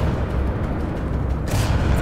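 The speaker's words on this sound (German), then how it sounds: "Was schießen die überhaupt, dass die so explodieren, beziehungsweise dass die so eine Explosionssalven schießen?" Explosive gunfire salvos from enemy soldiers in Wolfenstein The Old Blood, a dense low rumbling barrage of booms that swells louder near the end, with no talk over it.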